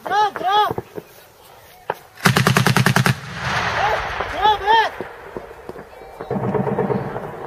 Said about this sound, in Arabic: ابو الحكم ارجع على الفتحه واضرب